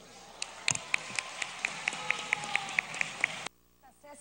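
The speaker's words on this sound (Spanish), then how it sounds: "Nuestro colega amigo César Villanueva, para quien les pido un aplauso." Applause during a parliamentary plenary session marking a member's birthday: steady, evenly spaced claps ringing out in a large chamber, stopping abruptly after a few seconds.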